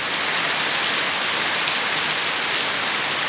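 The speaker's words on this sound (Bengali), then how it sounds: "কি স্পিডে বৃষ্টি হচ্ছে" Fast, heavy rain falls on Bhogoi Bazar in Monoharganj, a loud, uniform wash of pattering drops up close, steady throughout with nobody talking.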